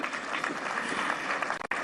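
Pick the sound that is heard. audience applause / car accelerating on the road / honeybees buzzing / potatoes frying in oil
audience applause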